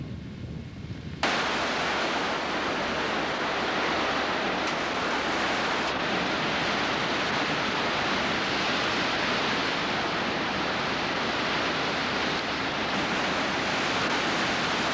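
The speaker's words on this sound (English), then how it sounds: "25-foot Ohio Falls is the scenic focus of the park" The 25-foot Ohio Falls on the Youghiogheny River, a dense, steady roar of rushing water that starts abruptly and then holds loud and constant with no voices.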